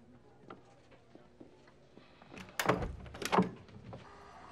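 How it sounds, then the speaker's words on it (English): A door at home opens with a couple of loud thuds and a rattling latch in the middle, preceded by faint ticks and shuffling in a quiet room. "Open the door."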